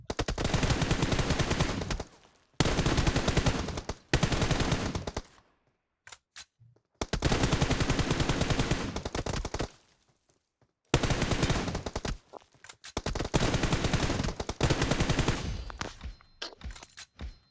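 Gunfire crackles in a shooting video game, rapid automatic bursts in long loud runs separated by short silences and a few scattered single shots.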